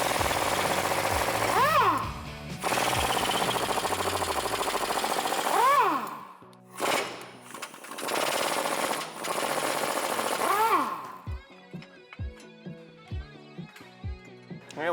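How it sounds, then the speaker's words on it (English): Bursts of a rattling power tool loosening U-bolts with a 21mm deep socket on a 2007-2013 Silverado or Sierra 1500 during a suspension lift install, several long loud runs followed by short sharp impacts. "To pull the U-bolts off, you'll need a 21mm deep socket for all these"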